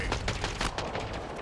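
Rapid bursts of gunfire in the Halo Infinite multiplayer beta, a dense run of close, sharp shots crackling one after another with no talking.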